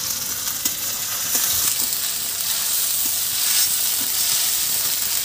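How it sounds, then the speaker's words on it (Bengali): Green chilies and fried spice paste sizzling in hot oil for a fish curry, a loud, steady close-up hiss and crackle with faint stirring clicks, no talking. "আর এই তেলের উপরে আর দুটো কাঁচা লঙ্কা ছেড়ে দিলাম।"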